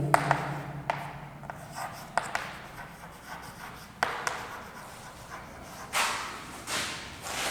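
Marker or chalk strokes scratching across a classroom board, a series of short rubbing and tapping strokes at moderate level with faint room noise and no talking.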